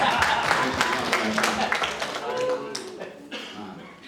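Audience applause at a Scout leadership training event in Mojokerto, a dense patter of clapping from a crowd under a speaking voice, fading toward the end.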